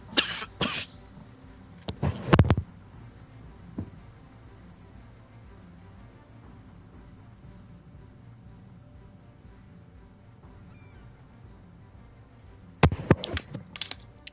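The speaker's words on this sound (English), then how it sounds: "I had like something stuck in my throat. Kept coughing." A man coughs in short, sharp bursts as if something is stuck in his throat: a cluster at the start, another around two seconds, then more near the end, with quiet room noise in between.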